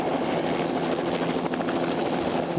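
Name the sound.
helicopter in flight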